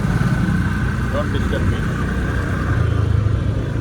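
Steady engine drone of a moving vehicle on the road, constant and fairly loud, with voices talking over it.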